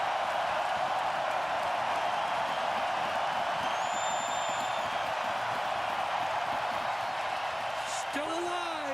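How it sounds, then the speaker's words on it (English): Dense, roaring crowd noise fills a hockey arena during the closing seconds of an NHL elimination playoff game between the Florida Panthers and Edmonton Oilers, sustained and loud, with a broadcaster's voice over it. "Listen to this crowd."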